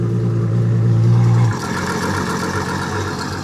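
A boat engine running after a new starter is installed, a loud steady mid-pitched drone that shifts to a rougher, broader running note partway through, with no talk.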